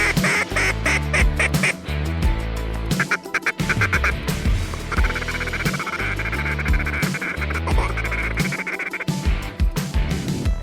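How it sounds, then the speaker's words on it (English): Ducks quack on open water during a duck hunting outing, the calls loud, close and continuous, mixed with a dense busy wash of other sound. "Look at these ducks out in front"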